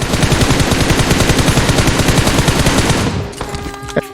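Rapid automatic gunfire from shooting in a video game: a dense, loud, steady stream of shots for about three seconds, then it cuts off, leaving a few ringing tones and a sharp click.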